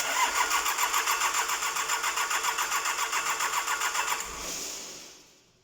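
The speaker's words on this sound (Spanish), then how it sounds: "Veamos si parte el motor." A diesel car engine is cranked by the starter with a rapid rhythmic churning for about four seconds, then catches briefly and fades away, close and fairly loud with no voices.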